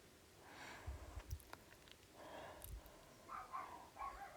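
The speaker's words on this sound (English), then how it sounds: "I hear dog noises." A dog sniffs and snorts in short bursts, heard through an open window. The huffs come in a few separate clusters at moderate volume over a quiet background.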